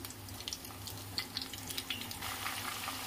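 Corn kernels frying in a pan over a high flame, a quiet, steady sizzle with scattered small pops and crackles.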